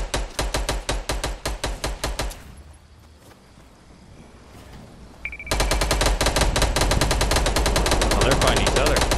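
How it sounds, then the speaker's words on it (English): Rapid automatic gunfire in the video game Fortnite as players fight each other, loud and close in steady bursts, pausing briefly before resuming even denser and louder. "Oh, they're fighting each other."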